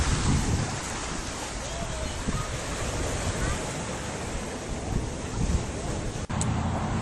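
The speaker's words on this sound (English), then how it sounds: "This is one of the tide pools at Redondo Beach." Ocean waves washing over rocky tide pools at Redondo Beach, a steady broadband roar of surf and wind with a brief dropout near the end; no voices.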